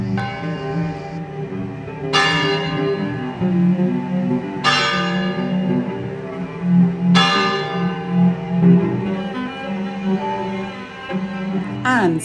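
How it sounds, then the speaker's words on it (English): Church bells chime from a clock tower in a Tuscan village. Three loud, ringing strikes come about two and a half seconds apart, each decaying slowly over a bright metallic hum and resonance. "Every day the bells ring out across the village, one chime for each hour and just a single ding at the half hour."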